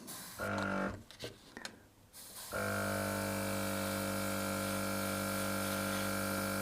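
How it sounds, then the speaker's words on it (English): An airbrush air compressor hums steadily in the background with a constant droning tone after a few brief hisses and clunks at the start. "So the compressor, noise-wise, yeah, it's in the background. You can hear it."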